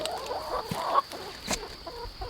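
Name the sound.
chickens clucking on a homestead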